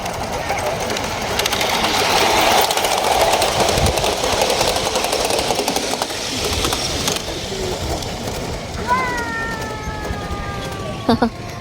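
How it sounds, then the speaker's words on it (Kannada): A miniature train at Bekonscot model village rattles and clicks along its tracks with a continuous mechanical whir, ending in a couple of short high squeals and knocks. "ಈಗ ಬರುತ್ತೆ ನೋಡಿ ಟ್ರೈನ್."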